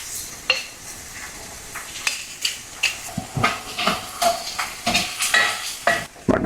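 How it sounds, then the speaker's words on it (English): Onions and Hatch chilies sizzling in a cast iron skillet, loud close frying with a rhythmic series of spatula scrapes and metallic knocks against the pan, no speech. "so I can cook my peppers and onions here"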